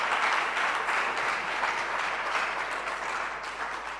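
A large audience applauds continuously, dense overlapping clapping at a steady moderate level that tapers slightly toward the end, with no speech over it.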